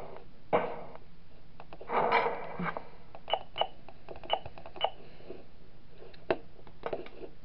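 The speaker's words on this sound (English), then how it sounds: "Close the door." A door closes in the horror game Five Nights at Smash Bros, heard as a series of sharp mechanical clicks and clunks spread across several seconds, with a denser burst of clatter near the start and no talking.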